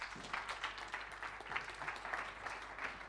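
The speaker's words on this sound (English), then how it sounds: "big round of applause for Tom" An audience at a talk gives a round of applause, fairly faint and distant, with a steady patter of many hands clapping across the whole stretch.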